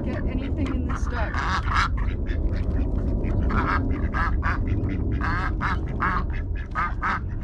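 Ducks quack repeatedly while being fed, with harsh overlapping calls coming thick and fast, close by, mixed with background voices talking.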